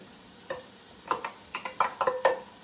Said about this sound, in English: we are fixing to put our garlic in there